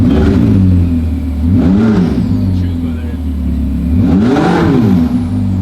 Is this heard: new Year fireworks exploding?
no